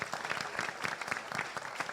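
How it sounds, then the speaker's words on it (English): An audience at a municipal candidate forum claps for the candidates, a lively, moderately close run of individual hand claps in an uneven rhythm lasting the whole moment. "let's clap it up for all of these candidates now"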